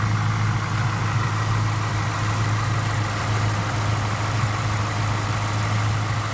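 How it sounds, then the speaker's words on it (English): A 2003 Ford Mustang Mach 1 with a 4.6-liter engine idles smoothly, giving a steady low rumble that holds even and close throughout with no other sounds. "Engine runs perfect, sounds great."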